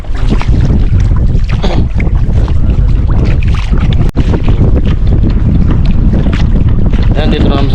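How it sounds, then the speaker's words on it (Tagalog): Loud, continuous roaring wind buffeting the microphone over open water in the middle of a lake at dawn, with a rushing boat-like drone throughout and only a momentary dip. "Malakas na yung hangin."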